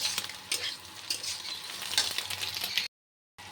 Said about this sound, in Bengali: এখন ভাত ভাজাটা করে আমি দিচ্ছি